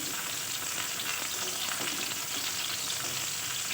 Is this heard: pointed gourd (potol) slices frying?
yes